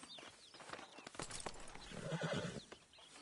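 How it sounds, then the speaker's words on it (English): A horse in the video game Red Dead Redemption 2 gives a quick whinny and snort, with clip-clop hooves and faint background sounds, moderately close and fairly quiet overall, no speech. "But I do kind of like this horse."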